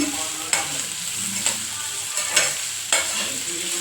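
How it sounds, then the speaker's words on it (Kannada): Onions frying in a pan until golden for a Karnataka avarekayi palya, an even close sizzle broken by four or five scraping stir strokes spread through, no speech. "ಈರುಳ್ಳಿ ಗೋಲ್ಡನ್ ಕಲರ್ ಬರೋ ತನಕ ಚೆನ್ನಾಗಿ ಹುರ್ಕೊಳ್ಳಿ"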